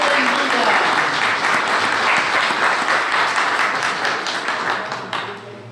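A congregation applauds loudly during a Catholic mission mass in San Miguel de Huallhua, a dense sustained wash of clapping that thins toward the end, with voices mixed in.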